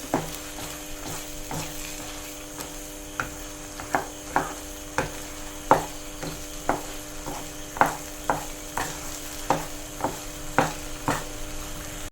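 A spoon scrapes and stirs thick jackfruit preserve, Kerala-style chakka varatti, in a pan, with regular strokes about twice a second over a soft sizzle, close and unaccompanied by voices.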